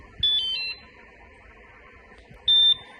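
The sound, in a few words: Rockbros electric bike alarm beeping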